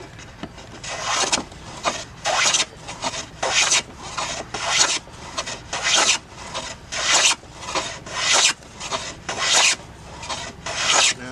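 A hand plane flattens a wooden board at a Civil War reenactment camp, with about a dozen loud, rhythmic rasping strokes, each a swift shaving swoosh followed by a short pause, close up and with no talk.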